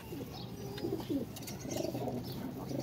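Soft, low pigeon coos repeat a few times over faint background rustle, fairly close but quiet.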